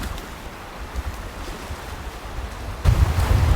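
Steady rushing wind over a lake buffets the microphone, with a deep gusty roar surging louder near the end over a wash of water noise.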